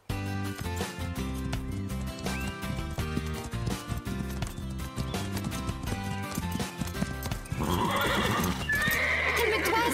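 Restless horses on a ranch neigh and whinny while hooves clip-clop, set against a continuous music bed that swells louder toward the end.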